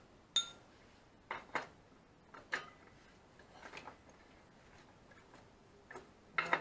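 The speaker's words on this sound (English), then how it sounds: "what you just heard drop was a spacer" A small metal motorcycle wheel spacer drops and clatters with a few faint, sharp ticks and clinks scattered over several seconds, close by in an otherwise quiet space.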